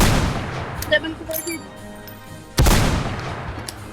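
Gunfire in a shooting video game: a few sharp shots early on, then one loud close blast with a rumbling tail, while a player talks excitedly over it.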